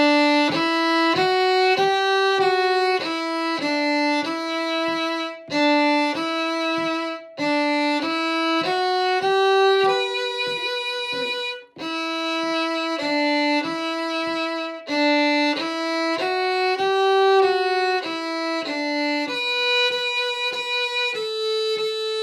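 A fiddle plays a simple version of the Peg Leg Jig at a slow pace, in a steady lilting stream of bowed notes with short breaks between phrases, heard clearly on its own without talk.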